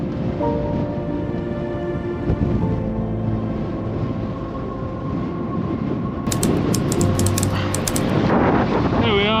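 Strong, continuous wind roars across the microphone on a mountain summit in the Lake District fells, a loud buffeting rumble with gusty flutter that intensifies toward the end.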